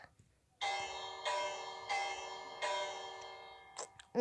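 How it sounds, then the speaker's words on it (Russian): A loud bell strikes four times in a steady rhythm, each ringing tone sustaining and overlapping before a short clatter at the end. "Какой громкий колокол!"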